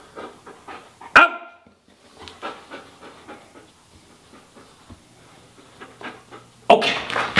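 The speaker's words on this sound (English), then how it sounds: "Good dog, Mako." A Labrador dog pants rhythmically in short breaths and gives a sharp bark, then a louder burst of barking at the end, close by during outdoor obedience training in Brooklyn.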